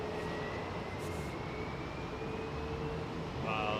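An airplane departs at Heathrow Airport with a steady, broad engine roar that holds constant throughout, heard from a distance under windy outdoor noise.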